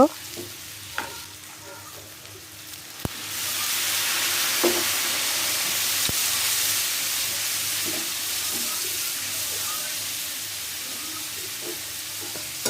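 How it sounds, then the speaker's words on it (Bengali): Shrimp bhuna frying and being stirred in a pan: a steady, close sizzle swells after a few seconds, with occasional clinks and scrapes of the spoon against the pan. "এখন আমি ভালো করে লাড়াচাড়া দিব"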